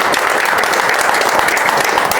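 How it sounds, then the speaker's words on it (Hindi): Dense, steady clapping from the audience at a two-day stock-market wealth creation master class in Hyderabad, loud and continuous for the whole stretch with no pause. "आप सब लोगों के लिए तालियां हो जाए"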